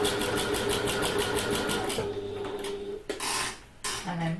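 A sewing machine set to its longest stitch length runs in fast, even stitching bursts through a handbag, then stops, followed by brief handling clatter.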